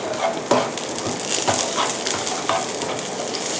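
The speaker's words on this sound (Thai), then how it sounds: "ใช้ตะหลิวนะคะ คนแบบนี้ไปเรื่อยๆนะคะไส้กรอกจะได้สุกทั่วชิ้นเลยนะคะ" Sausage pieces sizzle in melted butter in a pan while a spatula stirs and scrapes them in regular strokes, a loud close frying hiss for American fried rice with no talking.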